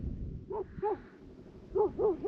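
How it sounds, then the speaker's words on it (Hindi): A dog barks beside Tso Moriri lake on a high mountain road trip, giving a few sharp yelping barks in quick bursts, near and fairly loud against the quiet outdoor background. "ये कुत्ता मुझे बड़ा डरा रहा है, जब से आया तब से भौंक रहा है,"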